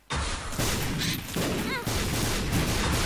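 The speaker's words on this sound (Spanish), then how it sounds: "Se oyen explosiones de fondo." Rapid bursts of gunfire and booming explosions from the video game The Binding of Isaac: Afterbirth pile up in a dense, continuous barrage, loud and close, with a brief whistling tone partway through.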